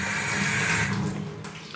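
Tap water runs into a bottle being filled for a window-tint slip solution, a steady close splashing stream that tapers off near the end, with no talking.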